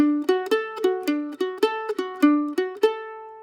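A mandolin plays a condensed phrase from the B section of a bluegrass tune, about a dozen crisp picked notes in a steady rhythm, close and clear with no talking.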